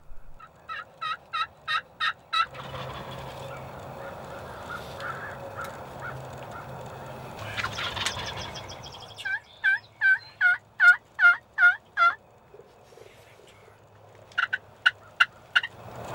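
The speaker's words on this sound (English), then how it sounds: "these turkeys knew something wasn't right, but were skirting us just on the edge of shooting range" Several wild turkey toms in the Michigan outdoors gobble in repeated rapid bursts, some close and clear, others fainter, over quiet rustling between the calls.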